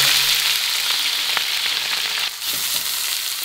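Fish marinated with cooking wine, salt and white vinegar frying in hot oil, a loud, dense, continuous sizzle close up with a few faint clinks, no talk.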